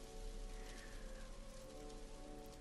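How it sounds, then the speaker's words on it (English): A steady patter of rain leaking through a store ceiling in the horror game The Convenience Store, even and continuous with no voices. "Is it raining through the ceiling?"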